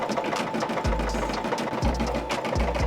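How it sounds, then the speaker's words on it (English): An embroidery machine stitches a design onto a hat, its rapid needle chatter running steadily up close with low motor hums surging in short bursts, no talking. "this machine right here is limited only because you can only print or embroider within a 4x4 hoop"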